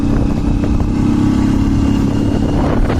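A motorcycle rides along a rough, rutted village dirt road in Makawanpur, Nepal, its engine a steady close drone with rattling clatter from the bumpy surface throughout.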